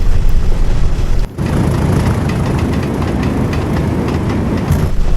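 Loud rumbling three-car Class 101 diesel train in a train simulator game, with engine drone and rhythmic clickety-clack of wheels on rails, continuing close by throughout.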